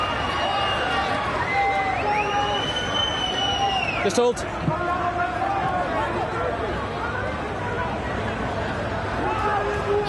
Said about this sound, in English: The crowd urge them on.